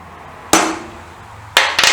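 Three sharp metallic hammer blows on a transfer punch marking hole positions during work on a BSA B50T motorcycle, a single strike followed about a second later by two quick strikes, close and loud in a quiet workshop.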